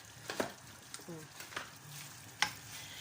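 Marinated meat sizzles in butter in a pot for kulish while it is stirred, a soft crackling fry punctuated by a few sharp scrapes and clinks of the spoon, fairly quiet and close.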